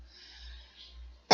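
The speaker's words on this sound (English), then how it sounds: "I can't stop coughing." A single sharp cough bursts out at the end after a stretch of quiet breathing and low hum indoors.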